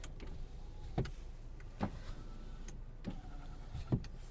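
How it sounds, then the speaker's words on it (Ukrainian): Power windows operate in the quiet cabin of a Dacia Logan 1.6 MPI, with several short motor whirs ending in soft thumps at roughly even intervals. "Склопідйомники працюють."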